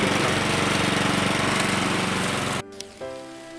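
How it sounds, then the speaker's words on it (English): A lawn mower engine drones loudly and steadily, then cuts out abruptly near the end, leaving a brief clatter and quieter rumble. "This is my first lawnmower for the season."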